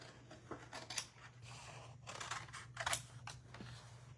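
Scissors cutting paper pieces for an art journal: a close series of crisp snips and rustling slices in an irregular rhythm, quiet, with a faint steady hum underneath and no talking.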